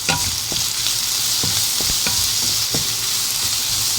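Garlic stir-fried in a hot pan gives a steady close sizzle, broken by several sharp scraping clicks from a spatula being stirred through it.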